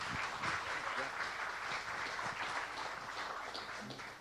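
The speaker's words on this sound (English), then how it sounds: "Clap." Lunchtime crowd at a political luncheon applauds Attorney General Josh Kaul, a faint, steady wash of many hands clapping that fades slightly toward the end.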